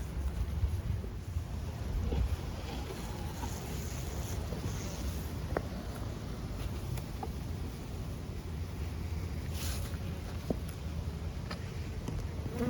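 Honeybees buzz steadily around an opened beehive with heavy honey-filled comb, a dense continuous hum close by with no pauses and no talk over it.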